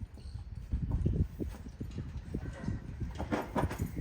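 A small, sound, clean-legged sale horse walks at a steady pace, its hooves clip-clopping in a close, even rhythm throughout.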